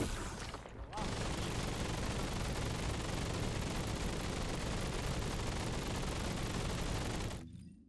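Rapid, unbroken automatic gunfire from Greg's Reversed Fate gun in The First Descendant, a loud dense stream of shots running for about six seconds before cutting off abruptly.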